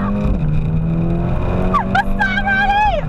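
A Mercedes-Benz A35 AMG with all-wheel drive launches hard under launch control, its engine droning and then rising in a sharp climbing rev heard from inside the cabin, with excited voices over it.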